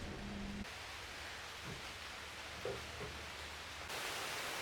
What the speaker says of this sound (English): rain just pouring down.